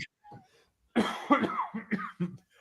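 A person coughs several times in a short, rough burst, close to the mic, after a brief quiet moment.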